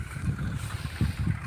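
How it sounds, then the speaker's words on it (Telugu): A tractor spraying pesticide across a redgram crop, a low steady engine drone with pulsing rumbles and wind noise, close and continuous with no voices. "ట్రాక్టర్ ద్వారా మనము ఈ యొక్క మందు స్ప్రే"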